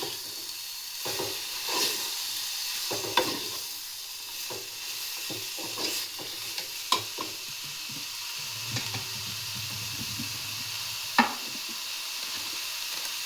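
Grated coconut sizzling softly in a pan while being fried for a drumstick sambar, with light spoon scrapes and taps against the pan recurring throughout.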